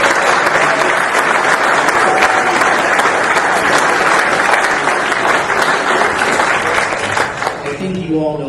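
An audience at a Hall of Fame induction ceremony claps loudly and continuously in a large hall, a dense sustained ovation that tapers slightly near the end.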